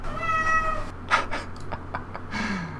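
Cat meowing, a clear drawn-out meow up front followed by softer, shorter mews and a faint low trill at the end, close and fairly loud over a quiet background hum.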